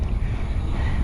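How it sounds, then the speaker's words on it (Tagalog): Strong wind outdoors on a hilly walk near Caliraya, a steady loud low rumble buffeting the microphone without a break. "Lakas ng hangin."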